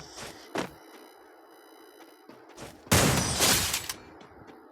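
Firecrackers going off outdoors: a few sharp separate bangs, then a loud dense crackling burst of rapid pops lasting about a second, and another bang at the end.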